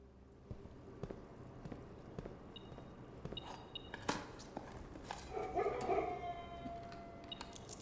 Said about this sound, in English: that was the dogs barking to open the room